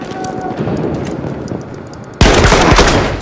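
Gunfire in Battlefield 1: a muffled, rumbling stretch gives way to a sudden, loud onset of rapid shots and bursts that continue near and dense until the end.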